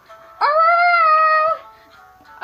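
A dog lets out one loud, sustained howl lasting about a second, close by, then a second cry begins just as it ends.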